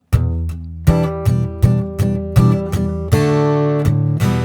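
Acoustic guitar strummed through the ending interlude of a song, a series of sharp, ringing chord hits and strums in a steady rhythm, close and loud with no voices.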